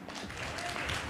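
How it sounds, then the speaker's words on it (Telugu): Audience applause during a Father's Day church sermon, a soft, fairly continuous patter of many hands, faint and somewhat distant. "ఒకసారి చప్పట్లు కొడదామా?"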